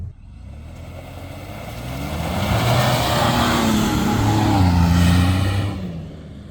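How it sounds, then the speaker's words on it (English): A 2022 Ford Bronco on stock tires at full pressure launches in packed snow, its engine revving up loud and close with rising pitch over several seconds before easing off. "I want to see how this launches in some snow."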